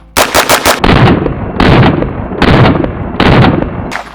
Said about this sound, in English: next up is going to be the MPX, and then we'll have John try all of these.